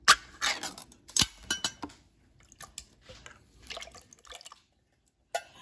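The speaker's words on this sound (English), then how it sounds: "just empty them out and put them in the saucepan here." Canned yellow cling peaches in fruit juice emptied into a saucepan, wet plops and drips with a few metal knocks, strongest at the start, then thinning to sparse drips and a final splash; close and quiet, no talking.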